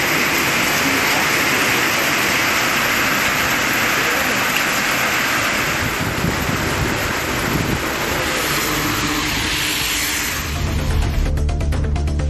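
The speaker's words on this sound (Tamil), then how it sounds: "பலத்த காற்றுடன் மழை பெய்தது." Heavy rain driven by strong wind makes a dense, steady roar and hiss that holds at a constant loudness, then shifts to a lower, rumbling wash near the end.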